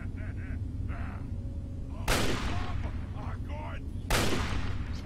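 Two loud, sharp gunshots about two seconds apart in the Fallout video game, fired at a bug, each a sudden broadband crack with a short decaying tail over a low rumbling background, with people talking between shots.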